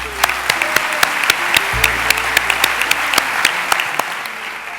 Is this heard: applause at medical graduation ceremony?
yes